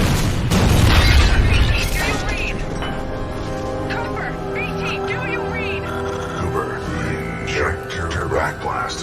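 In Titanfall 2, a fold weapon fires and its backblast explodes with a heavy booming blast at the start, followed by rumbling, crackling debris and mechanical tones that linger at high volume.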